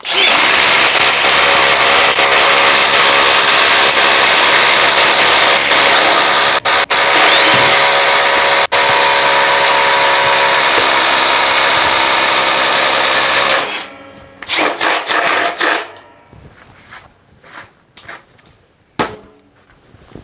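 A cordless brushless drill with a 7/8-inch spade bit whines loudly and steadily as it bores through wood for about fourteen seconds, then stops, followed by scattered clunks and handling noises.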